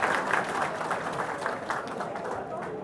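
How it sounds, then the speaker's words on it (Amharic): An audience at a lively Ethiopian entertainment show gives warm applause as a journalist returns to his seat, a broad wash of clapping that gradually thins out. "ጋዜጠኛ ጡመ ልሳን ሞቅ ያለ ጭብጨባ ወደ ቦታው መልሱልኝ"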